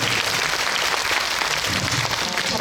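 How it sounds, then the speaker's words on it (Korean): Loud, sustained applause from a large cinema audience at a live film talk event, many hands clapping in a thick continuous roar from start to finish. "어떻게 보셨는지 박수로 좀"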